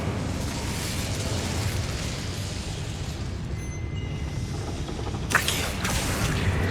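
A fire spell cast in the Hogwarts Legacy video game, heard as a dense, sustained roaring whoosh of flame with a crackling burst near the end, loud and steady with no talk.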